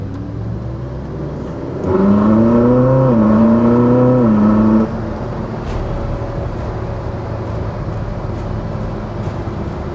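A Ferrari 458 convertible drives down a road, its engine note rising and falling in a strong revving burst before settling into steady road and wind rumble.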